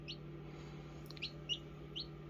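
Several faint, thin high chirps from a newly hatched quail chick, spaced a few times across the stretch and sitting over a steady low incubator-like hum.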